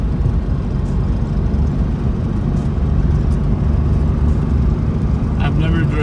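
Steady, loud engine drone and road rumble from an air-cooled Porsche 356 cruising at low speed, continuous throughout with no breaks.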